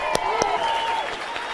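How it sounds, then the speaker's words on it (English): Applause from a seminar audience being asked to stand, loud and close, with a few sharp claps and possible cheers over a background of tonal hum and faint voices for a brief moment. "Stand up and give yourselves, everybody included, give them a round of applause."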